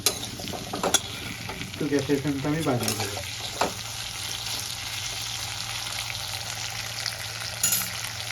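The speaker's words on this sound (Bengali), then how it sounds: "আলুগুলো লাল লাল করে ভেজে নেব।" Potatoes fry and get stirred in a kadai while cooking a rui fish curry, a steady close sizzle with scraping stirs, and someone talks over it partway through.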